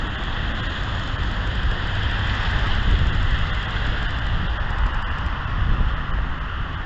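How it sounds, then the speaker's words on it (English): Heavy rain pours steadily in a dense, even hiss with a low rumble underneath, continuous and close throughout, with no voices. "Heavy rain. This is going to be bad tonight."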